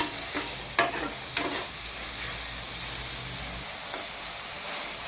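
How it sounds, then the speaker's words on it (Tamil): Tomatoes with onion, ginger and garlic sauté in a pan for a creamy chicken coconut curry, giving a steady broad sizzle with a few scraping stirs of a spoon near the start. "தக்காளி கொஞ்சம் நல்லா நடுவில் வதக்கி விடுங்க"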